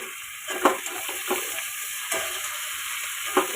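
Drumstick greens with green chilies are stirred in a frying pan over a constant close hiss of frying, with a few distinct scraping strokes of the spatula spaced out; no voices.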